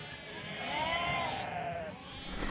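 Flock of freshly shorn sheep bleating on a hillside trail, with one clear, wavering bleat rising and falling nearby and other sheep faint in the background.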